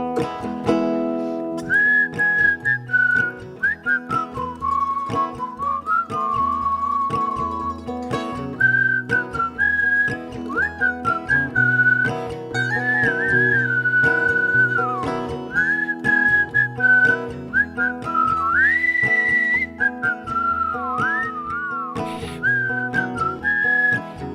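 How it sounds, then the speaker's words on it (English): A sustained melodic whistle carries a tune over steady instrumental backing, wavering and sliding between notes for the whole stretch. "You can whistle at home."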